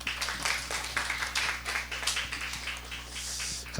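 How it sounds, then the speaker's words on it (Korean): A church congregation at a Sunday worship service claps together, a dense, continuous roomful of applause that holds steady throughout without any talking. "우리 다시 한번 박수로 한번 격려해 주셨으면 좋겠어요."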